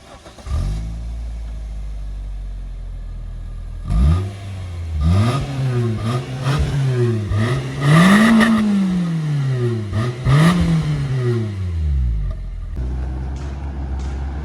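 A 1997 Toyota Corolla drives by, its engine note rising and falling through several revs as it accelerates and shifts, loud and close before easing back to a steady hum.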